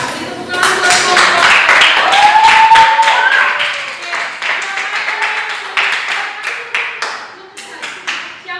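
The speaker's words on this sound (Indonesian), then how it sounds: "kasih tepuk tangan buat kelompok" Elementary school pupils clap for a group in class, starting with a loud burst of dense applause that thins into scattered, separate claps, with children's voices mixed in throughout.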